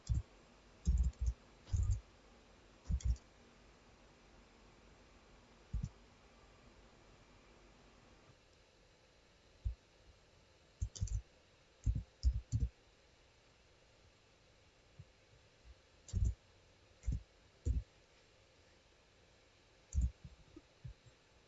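Computer mouse clicks in an office, scattered single and double clicks at irregular intervals over a faint steady hiss, with no talking.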